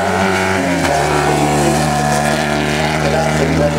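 Racing motorcycles of 900 to 1300 cc, around 180 horsepower, run steadily at a festival of speed, a continuous loud engine drone with shifting harmonic tones, under a commentator's voice.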